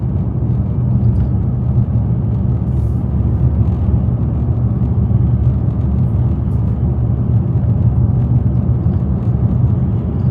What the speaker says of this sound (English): Traffic is still not bad at all.